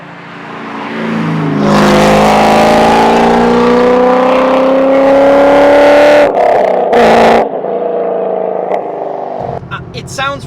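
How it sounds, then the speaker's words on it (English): A C5 Corvette with long tube headers, a catless 3-inch X-pipe and straight pipes and no mufflers, revving loudly up through a rising raspy roar, dropping off, then short blips and bursts, with people talking near the end. "I have long tube headers, a catless 3-inch X-pipe, and then I have straight pipes. I have no mufflers."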